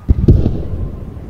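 A Panther tank's main gun fires in the Post Scriptum war game, giving one or two heavy booming blasts with a deep rumbling decay, loud and close, with no voices.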